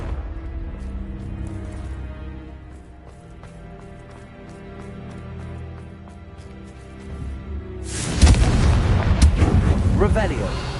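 A Confringo blasting spell goes off in Hogwarts Legacy: after quiet ambient music and faint ticks, a loud booming blast bursts in near the end and rumbles on, with a voice casting beforehand.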